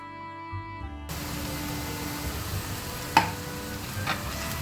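Mutton liver frying and being stirred on a hot tawa with grated onion, a steady sizzle with a sharp spatula scrape partway through.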